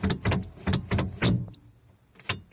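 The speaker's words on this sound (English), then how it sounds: "You just double lock your car once, second time, and now you cannot open the door." Car door locks on a Mazda 626 clicking and clunking in a series of sharp mechanical bursts, several in quick succession, then a pause and one final click, close to the microphone.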